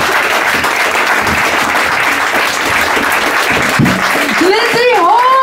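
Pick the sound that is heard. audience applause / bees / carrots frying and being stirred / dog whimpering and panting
audience applause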